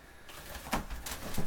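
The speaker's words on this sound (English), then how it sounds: "That's a birdie." An escaped pet bird gives a few short cooing calls amid faint indoor rustling and handling noises, with no talking.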